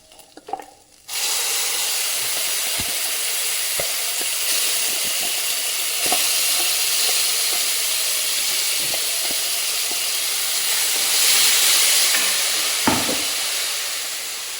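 Masala paste sizzling in a hot pan for a pea and potato curry, a bright steady frying hiss starting after a brief clatter, with occasional stirring scrapes and taps near the end.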